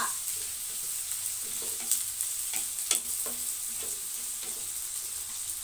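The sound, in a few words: ginger sautéing in hot oil, sizzling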